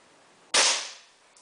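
A single sharp air gun shot at an electronic target during home training, a close, loud crack with a short fading tail, followed by a faint click.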